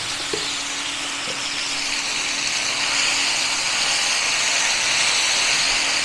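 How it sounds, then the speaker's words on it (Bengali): Taro chunks frying with ginger-garlic paste in a pan give a steady, loud, broad sizzle and hiss that runs unbroken throughout, with only a couple of faint knocks near the start. "সব কিছু ভাজছি।"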